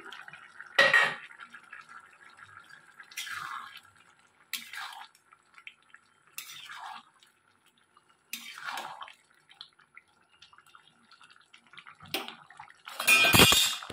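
Fried prawns stirred into a pot with a metal utensil, heard as separate clanking scrapes and wet stirring bursts spaced by quiet gaps, ending in a louder scrape.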